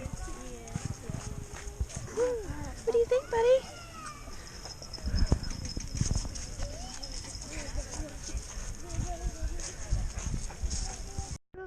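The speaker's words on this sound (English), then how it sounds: "The pretty horses." Horses at a fall farm tour clop their hooves in scattered, uneven steps close by, mixed in among people chatting nearby and a voice.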